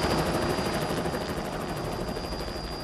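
A rescue helicopter lifting off during cyclone flood rescues gives a loud, close, continuous rotor and engine roar with a steady whine on top, heard alone without voices.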